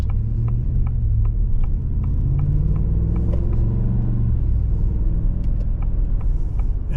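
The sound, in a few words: 2024 Ford F250 XLT pickup truck driving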